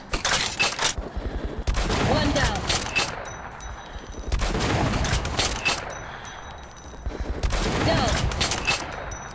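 Gunfire in the video game Metro Last Light, repeated loud bursts of rapid automatic shots separated by short pauses, with crackling impacts and echoing tails.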